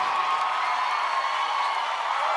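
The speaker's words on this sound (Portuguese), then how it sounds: "Queria que você recebesse com uma salva de palmas, por favor" A live show audience keeps up a steady wash of applause and cheering, dense and continuous over a couple of seconds with no distinct voices standing out.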